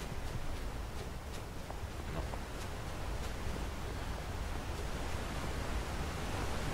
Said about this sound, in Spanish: Voy a mirar la cascada.